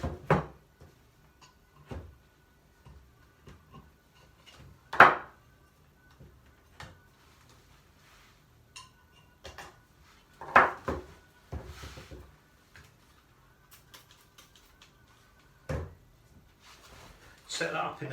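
Whetstones being changed over to a 1000 grit stone while sharpening a smoothing plane iron: scattered hard knocks and clunks of stone and wood, a few louder thumps spaced apart in a quiet room.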